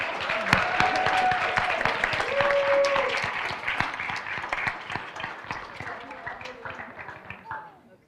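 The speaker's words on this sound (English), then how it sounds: "Let's give them all one more round of applause." Audience applause at a county commissioners' regular meeting, a dense, steady round of clapping that fills the room for several seconds before tapering off, with voices talking over it.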